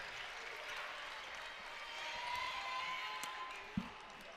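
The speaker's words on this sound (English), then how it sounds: "Morris will come out to get some applause from the fans here." Fans at a Big Ten women's basketball game between Penn State and Rutgers applaud steadily in a large arena, a broad, even crowd wash swelling slightly midway, with a single sharp thump near the end.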